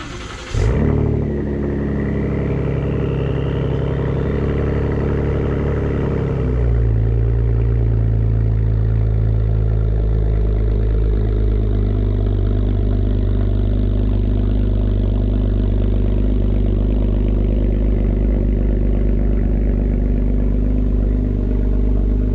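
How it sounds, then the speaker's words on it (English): A car engine cold-starts with a loud crank and catch, then settles into a steady, rumbling fast idle that grows slightly louder and fuller partway through, running close by without speech. "here comes a cold start"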